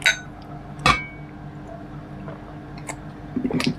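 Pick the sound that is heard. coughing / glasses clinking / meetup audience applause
glasses clinking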